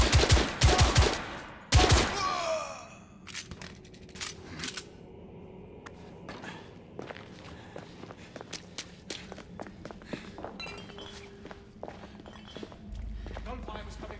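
Gunfire in the video game The Order 1886: a few sharp, loud shots burst out early, then quieter clicks, footsteps and scattered impacts follow amid voiced dialogue.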